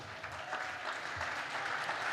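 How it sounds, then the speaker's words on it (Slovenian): Loud, sustained applause from a crowd at a Slovenian People's Party camp, welcoming politician Romana Tomc, a dense steady clapping texture filling the whole stretch. "Močen aplavz za Romano"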